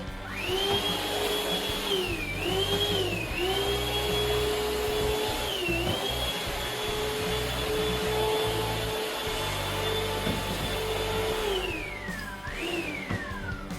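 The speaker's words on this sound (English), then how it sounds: "we're going to use my new Shark mopping vac" A new Shark mopping vacuum runs continuously with a steady whine, its pitch sagging and recovering several times as it is pushed across a small bathroom floor, close and loud with no talk.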